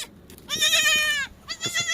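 Newborn goat kids bleat on a goat farm at night, two close, clear bleats, one long and wavering and a shorter one after it.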